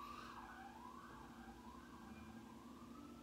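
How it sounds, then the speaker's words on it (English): A distant emergency siren wails up and down, faint and steady, rising and falling in a slow cycle. "gotta wait till the siren's done going off"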